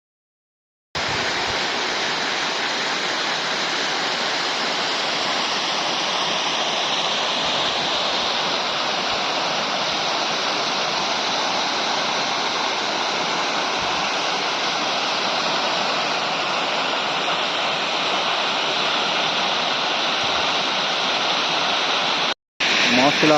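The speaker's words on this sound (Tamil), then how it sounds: "மாசிலா அருவி, கொல்லிமலை." Masila waterfall in the Kolli Hills roars in a dense, steady rush of falling water that holds loud and unbroken from start to finish, with voices faintly mixed into the torrent.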